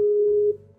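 A phone call ringing out to a radio-show caller, a steady electronic tone holding for about half a second before cutting off into a faint lower hum.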